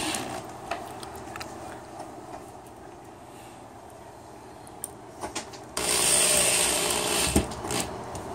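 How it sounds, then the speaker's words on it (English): A power driver sets the final screws for casters on a DIY coffee table, with clicking and ratcheting at first, then a loud sustained whirring run near the end. "These are the final screws that are going into this table to be finished."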